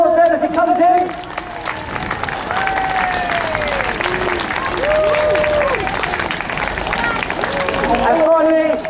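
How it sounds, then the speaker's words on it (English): Crowd applause at an airshow as a parachutist comes in to land, steady clapping throughout with an announcer's amplified voice talking over it. "Let's give him a big round of applause there as he comes in"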